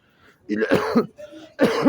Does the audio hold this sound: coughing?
yes